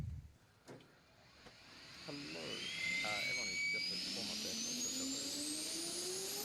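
Helicopter in the ARMA 3 combat game spooling up, its turbine whine climbing steadily and growing louder while soldiers talk over the rising engine noise.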